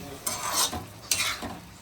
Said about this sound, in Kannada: ಟಮಾಟೊ ಮಿಕ್ಸ್ ಮಾಡ್ತೀನಿ